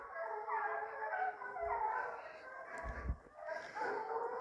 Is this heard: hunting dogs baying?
yes